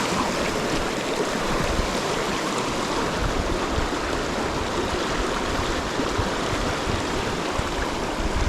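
River water pushes past a rock in a springtime tailwater trout stream, making a close, steady rushing and gurgling flow without pause.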